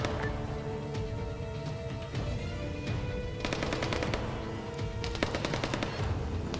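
Bursts of machine gun fire ring out in ArmA 3, with rapid rattling volleys in several clusters against a constant low battlefield rumble, mid-distance and moderately loud.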